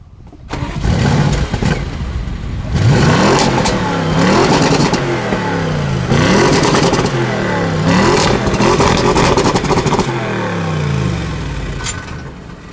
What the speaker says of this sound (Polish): zacznijmy od tego, żeby go włączyć, przegazować i pokazać,